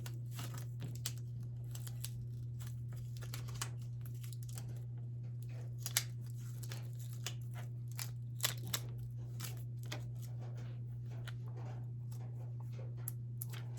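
Heat transfer vinyl being peeled from its carrier sheet and weeded, with soft crinkling, small crunches and brief tearing ticks scattered over a steady low hum, close and quiet, with no talking.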